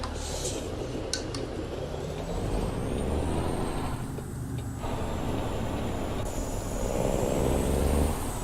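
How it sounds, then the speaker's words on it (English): An extra-long truck pulling an extra-long trailer makes a 90-degree turn in American Truck Simulator. A steady, heavy engine drone runs throughout, with a faint high whine and a slight swell toward the end. "we have an extra long truck, extra long trailer, trying to make a 90-degree turn"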